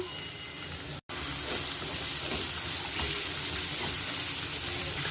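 Onions tip into a pan of frying green chillies, a brief pause giving way to a dense, steady sizzle that stays loud and close to the end.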